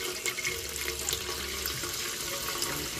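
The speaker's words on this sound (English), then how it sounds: "We're going to take this chicken stock, and in that hot grease, I'm going to pour slowly." Chicken stock poured slowly into hot grease for Jamaican brown stew chicken, giving a continuous loud hiss and watery rush that holds steady for about three seconds with no talk.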